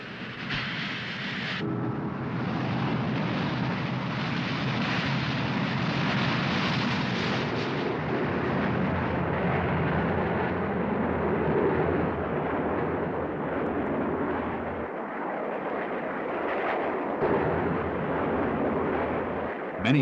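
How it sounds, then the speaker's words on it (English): A supersonic MiG-21bis fighter jet gives a loud, continuous, roaring rumble that holds steady and close throughout. "where they learn to fly the supersonic MiG-21 bis"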